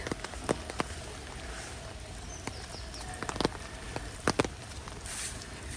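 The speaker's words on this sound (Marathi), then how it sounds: "पाऊस यायला लागलाय" Steady patter of rain at the Dadar flower market with scattered sharper drops tapping nearby, fairly quiet and continuous throughout.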